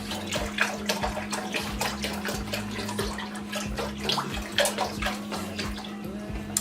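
Chicken broth is poured into a cooking pot, giving a steady close splashing stream of liquid that runs without a break, along with a low constant hum in the background.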